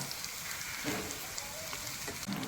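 Mushroom pakoda fries in hot oil in a home kitchen, giving a soft, steady crackling sizzle at low level with no talking.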